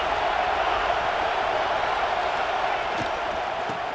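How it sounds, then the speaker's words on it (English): Stadium crowd noise from EA Sports College Football 26, a dense, steady roar of many voices that holds at one level throughout, with a few faint thumps. "This crowd ready to make its presence known."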